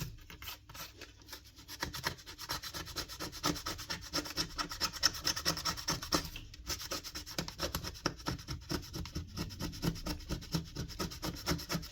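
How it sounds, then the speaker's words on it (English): Steel plate from a nail gun under repair being scraped clean of built-up deposits: a steady, rhythmic rasping scrape repeated rapidly and close for the whole stretch, with a brief pause midway and no talk. "Just scrape this a bit."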